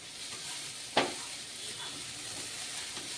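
Greens (shak) fry in a pan over low gas flame, a soft steady sizzle with one sharp clack of a utensil against the pan near the start and faint stirring scrapes afterward.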